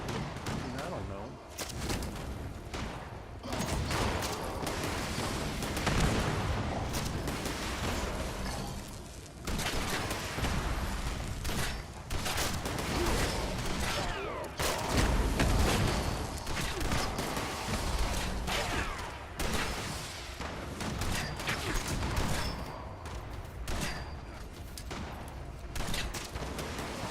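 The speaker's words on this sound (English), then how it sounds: "Who's shooting at me?" Gunfire in the post-apocalyptic online game Fallout 76, a dense, continuous barrage of shots and impacts throughout, with a player talking over the shooting.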